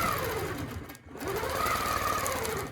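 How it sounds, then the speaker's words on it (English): A sewing machine quilts with a Westalee hearts template, its motor whirring close and loud with a brief pause midway before stitching resumes steadily. "you can see I'm sewing up there"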